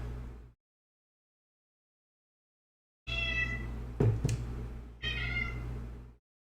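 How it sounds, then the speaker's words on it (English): A cat meows loudly and up close while being petted and scratched on her back, giving two long, drawn-out meows separated by a short pause, with no talking. "just petting the cat, scratching her back"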